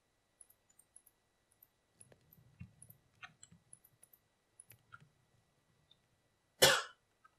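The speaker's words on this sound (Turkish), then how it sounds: "Öksüresim geldi." A single sharp cough, loud and close, after a stretch of quiet clicks and soft handling noises.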